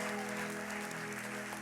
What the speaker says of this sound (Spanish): Dale un fuerte aplauso al poder de Dios.